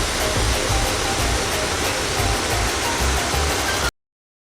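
Tap water runs steadily over spinach being rinsed in a kitchen, a continuous loud rushing hiss that stops abruptly near the end.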